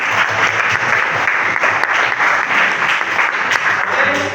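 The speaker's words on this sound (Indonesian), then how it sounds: "Tepuk tangan untuk besok" Vocational high school students clap together in a sports class, a dense and loud burst of applause that runs the whole time with no pause.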